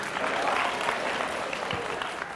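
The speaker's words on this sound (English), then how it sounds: "Give him a round of applause." Student audience at a high school youth motivation talk applauding steadily for about two seconds, a dense, moderately loud wash of clapping from a crowd in an indoor hall.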